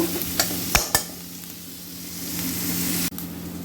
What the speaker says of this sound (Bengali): এবার দেবো পেঁয়াজ কুচি এটা ভাজা ভাজা করব